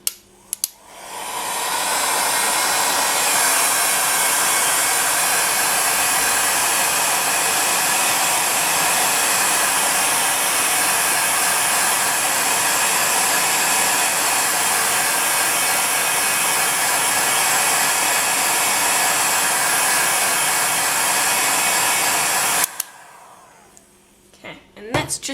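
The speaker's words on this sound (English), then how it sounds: "I'm just going to be using the hot setting on my heat gun" A heat gun on its hot setting blasts over polymer clay, a loud continuous blowing whir that runs steadily for about twenty seconds and then cuts off abruptly.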